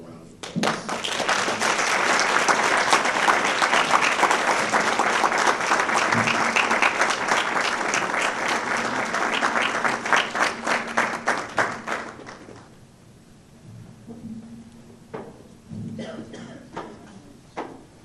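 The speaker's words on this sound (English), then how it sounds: "Please, let's give her a round of applause." Sustained audience applause at a Universal Kidney Foundation awards ceremony, a dense wash of many hands clapping loudly for about twelve seconds, then thinning to a few scattered claps and room noise.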